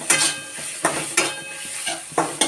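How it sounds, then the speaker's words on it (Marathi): Grated potato sautéing in a pan for sabudana khichdi, with a soft steady sizzle broken by repeated scraping stirs roughly every half second, close and fairly loud. "2 मिनिटं आपण परतून घेऊया।"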